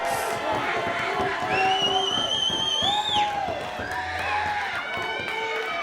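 Wrestling crowd at a Juggalo Championship Wrestling show, a loud dense roar of fans with shouts, whistles and cheering, rising and falling steadily while a commentator's voice runs over it.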